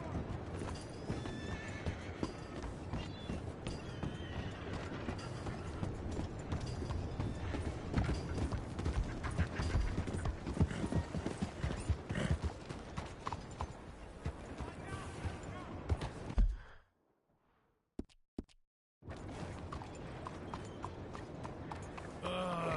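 A horse in Red Dead Redemption 2 clip-clops along with steady hoofbeats and lets out whinnies, close and lively, with background game voices; sound briefly drops out near the end before resuming.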